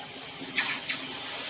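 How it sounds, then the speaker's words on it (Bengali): A little water splashes from a pour into a cooking pot of fish with potatoes and Malabar spinach, a brief close gush over a steady hiss. "এবার দিয়ে দেবো সামান্য জল কষানোর জন্য"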